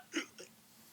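A reader's voice imitates a skeleton's hiccups while reading a children's Halloween picture book aloud, giving two quick, fairly quiet hiccup sounds close to the microphone, followed by silence.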